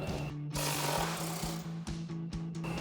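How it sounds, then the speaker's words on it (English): Inner bumper support bolts on a 2021-2023 Ford F-150 are run out with a 13mm socket on an impact tool, a loud, buzzing rattle in several bursts separated by brief pauses, close to the source. "We're going to remove these inner bolts, this one on this side and the same one for the other side, using our 13mm socket"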